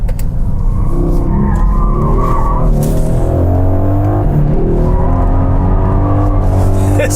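A Mercedes-AMG G 63 on performance tires corners hard on a mountain road, its tires skidding and squealing loudly over a steady engine drone that shifts pitch partway through.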